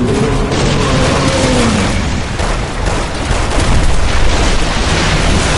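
Enemies open fire in Resident Evil 6 with loud, booming shots and blasts packed densely together, a continuous barrage of heavy impacts close by.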